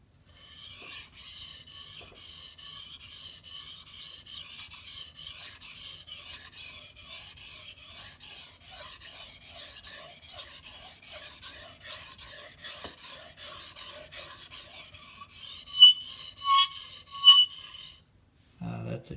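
A blade is drawn over a coarse Shapton glass whetstone in steady, repeated rasping strokes, harsh and close, with a few louder scrapes near the end before it stops.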